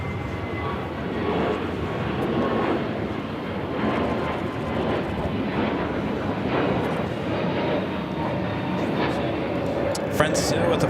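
An airliner takes off from runway 25 right at Los Angeles International Airport, its jet engines roaring as a loud, steady, broadband rumble that fills the whole clip, with faint talk beneath.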